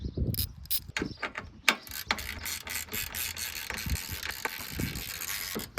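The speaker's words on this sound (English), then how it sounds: "Let's try to unbolt these and see what happens." Close ratchet clicks and metallic clatter come from tools unbolting parts on a car damaged in a collision with a deer, with bursts of rapid ratcheting broken by short pauses.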